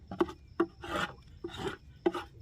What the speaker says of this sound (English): On your hive bodies, scrape everything out